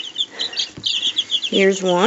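Newly arrived baby chicks peep in high, rapid bursts at close range. A voice speaks briefly partway through, and one sharper, louder chirping call rises near the end.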